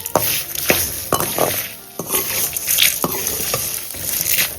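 Grated coconut and asafoetida being stirred in a hot pan for potato masala podi sevai, with repeated scraping strokes and clinks of a spoon against the pan over a steady sizzle, close and fairly loud.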